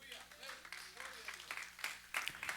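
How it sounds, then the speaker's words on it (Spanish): Hands clapping from a church congregation, faint and scattered at first and growing denser, with voices talking over it. "Dale palmas al Señor."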